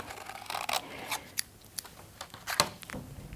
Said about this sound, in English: you need to cut it out with some scissors